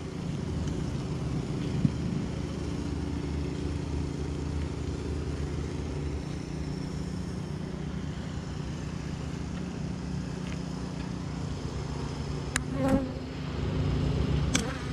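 Honey bees swarm and buzz around an open hive box during a hive inspection, a steady dense hum filling the air close by with no talking, a few brief clicks near the end.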